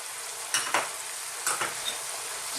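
Spices such as turmeric and cumin sizzle in a hot pot of camel stew as they are stirred, with a constant frying hiss and a few sharp scrapes of the spoon against the pot.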